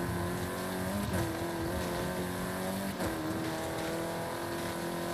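Car engine in Forza Horizon 5 while jumping the white sand dunes of Dunas Blancas, a steady, loud droning hum with slight pitch dips as the slow car takes small jumps, running alone throughout.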